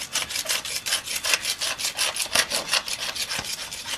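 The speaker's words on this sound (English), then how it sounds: "one of the bigger problems on these stucco homes is that you have this problem where you need to scrape this stuff out here" Rapid, rhythmic scraping of a hand tool against cracked stucco on a house wall, about four rasping strokes per second, close and steady, with no voices.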